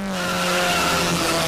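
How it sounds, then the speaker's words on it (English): A loud, sustained high-pitched squeal of race car tires on a track holds steady with engine drone underneath, close and continuous for a brief moment. "the tires squealed when the green flag was lifted"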